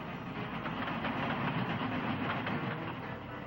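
A train runs steadily along rails with a continuous broadband rumble and faint rhythmic clatter, close and even in level throughout, with no voices.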